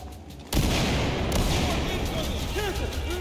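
Gunfire at targets during a Battlefield 4 mission in Baku, a dense loud barrage of overlapping shots that erupts suddenly after a quiet start and continues without a break.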